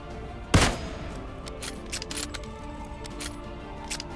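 Gunfire in a battle royale shooter game: one loud sharp shot near the start, followed by a few fainter scattered pops over low background game noise.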